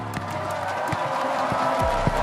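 Live esports crowd in Toronto at a Valorant match, loud and dense with rhythmic clapping and cheering filling the arena, with a low hum and scattered sharper claps or thumps, sustained without a break.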